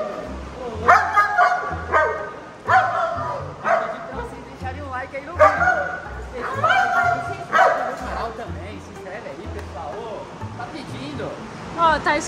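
Dogs bark, yip and whimper at an animal shelter, with repeated close, loud barks through the stretch while people talk over them.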